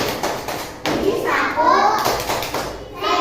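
Children in a classroom performing a rhythmic clapping chant about cleanliness, sharp handclaps in a patterned beat mixed with young voices chanting and talking, close and fairly loud.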